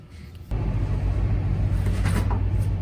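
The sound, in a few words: lawn mower mowing outside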